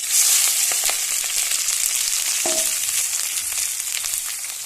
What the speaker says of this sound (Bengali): পেঁয়াজগুলো লাল লাল করে ভেজে নেব